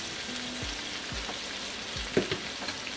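Yogurt added to onions and mutton in a pan for lamb rogan josh, a soft steady sizzle with a few low thuds and scrapes of stirring, close and fairly quiet.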